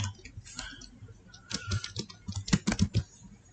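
Typing on a computer keyboard while entering a user account name, a run of close, sharp key clicks in uneven bursts, denser and louder toward the end.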